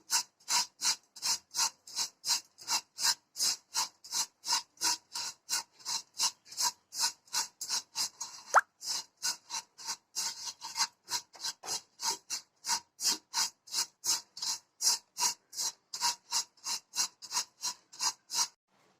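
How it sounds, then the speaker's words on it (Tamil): Vermicelli (semiya) being dry roasted in a pan on a medium flame, stirred in a steady, quick rhythm of dry scraping strokes that repeat evenly and up close, with no talking. "நல்லா மீடியம் ஃப்ளேமில் வச்சுட்டு லேசாக வறுத்து எடுத்துக்கலாம்."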